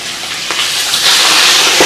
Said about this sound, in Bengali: মাছের মাথা ভাজা হচ্ছে